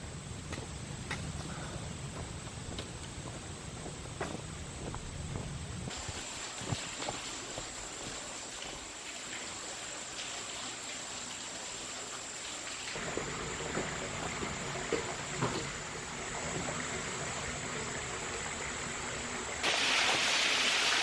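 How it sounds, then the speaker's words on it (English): Water flows steadily into a clear blue pool beneath a small waterfall on the Honey Creek Loop of the Sheltowee Trace, a continuous close wash of splashing and rushing that shifts slightly in texture throughout. "I hear some water flowing."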